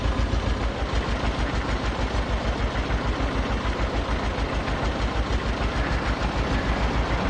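A landfill-rescued tractor in Farming Simulator 22 runs with a truck sound mod, giving a steady, loud diesel drone with a fast rhythmic pulse throughout, close and alone with no talk.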